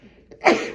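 A single sharp sneeze bursts out after a brief, quiet intake of breath, loud and close, then trails off.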